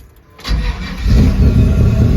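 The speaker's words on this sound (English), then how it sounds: "Fires up like it should." A 1952 Chevy 3100 short-bed pickup with an LS V8 swap cranks briefly and fires, then settles into a loud, steady, rumbling idle up close.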